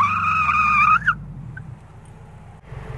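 Car engine pulling steadily in fourth gear after a shift, a low droning hum with a brief high squeal at the start, settling into a sustained moderate rumble.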